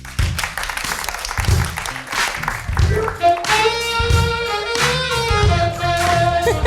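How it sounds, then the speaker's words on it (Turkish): Studio audience applause on a late-night Turkish talk show, clapping that is partly rhythmic and mixed with a house band's music, with voices talking over it. "Beyefendiyi alkışlayalım."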